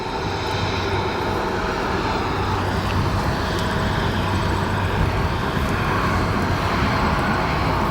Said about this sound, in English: And that there, your Scandinavian Airlines arrival.